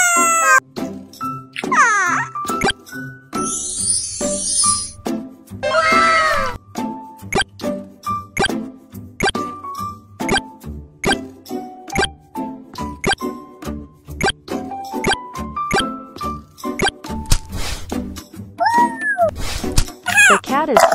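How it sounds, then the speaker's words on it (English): Cartoon cat meows from the Baby Talking Tom mobile game, repeated high chirpy cries mixed with plops, tinkly jingles and dings, with a voice speaking at times over busy game sounds. "Oh, a very cute cat."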